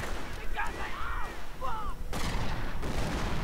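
Heavy gunfire and explosive booms from a World War II style strategy game, with riflemen under fire from Panzer Grenadier teams; dense continuous battle noise with whistling shells, loud and layered throughout.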